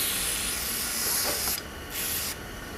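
Two short bursts of aerosol cleaner spray hiss close up onto a Subaru EJ22 engine head, the second briefer, with a quiet pause between them.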